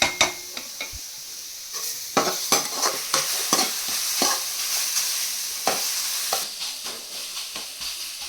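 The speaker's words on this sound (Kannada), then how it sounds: "ಇದನ್ನು ಅವಾಗವಾಗ ಸ್ಟೇರ್ ಮಾಡ್ತಾ ಇರಬೇಕು" Carrot kheer with rice cooking in a pot is stirred with a spoon, giving repeated scraping strokes and soft knocks over a steady bubbling hiss, close and fairly loud with no talking.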